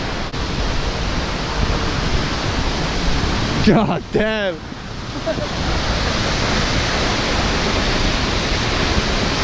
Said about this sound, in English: Just from the waterfall.